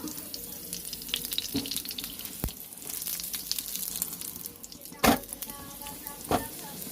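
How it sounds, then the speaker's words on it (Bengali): Three chana dal parathas fry together in white oil, making a soft, quiet sizzle broken by a few sharp clicks and knocks, with faint watery background noise. "পরোটাটা ভালো করে লাল করে ভেজে নেব"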